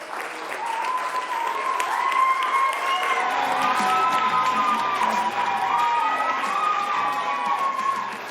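A crowd at a youth mini basketball event applauds and cheers, steady dense clapping with high shouts and children's voices, loud and continuous throughout.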